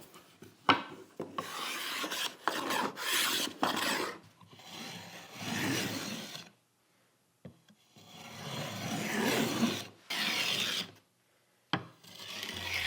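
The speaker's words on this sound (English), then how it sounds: "Fortunately, everything went really smoothly with a little bit of block plane and sanding." A block plane and sanding work over figured wood in repeated rasping strokes, each pass a dry scraping rub separated by short pauses, close and fairly quiet.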